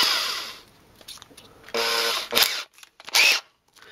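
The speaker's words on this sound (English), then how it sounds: "we swapped the drill bits, and we're just going to go through that hole as straight as we can up into the lower leg" A power drill bores into the lower leg of a Warlord Titan model kit in short, sharp bursts of high whirring, with a brief pause between runs and a quiet stretch at the end.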